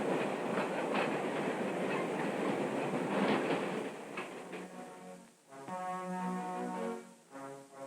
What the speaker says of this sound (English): The train pulled into the station on time.